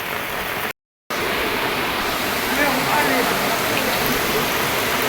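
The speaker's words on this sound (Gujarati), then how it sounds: "હા એવો થયો જામજોધપુરમાં વરસાદ" Heavy monsoon rain pours in Jamjodhpur, a dense, steady hiss of water close by with a brief silent gap early on.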